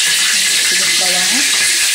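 Onions sizzling in hot oil in a pan while a stirring utensil scrapes and clinks now and then, a steady broadband hiss throughout with no talk.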